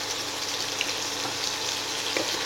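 Beans, carrot and capsicum fry over raised heat in a pan for street-style egg chowmein, a loud, even hiss of sizzling oil held steady throughout with faint stirring sounds and no voices.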